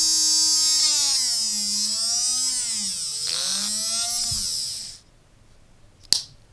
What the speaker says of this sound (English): You can run the DC motor with only one magnet.